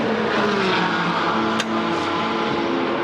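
A GT4 race car pulls into the pit lane during qualifying at Darwin, its engine a steady mid-level drone with a brief whoosh partway through. No one speaks.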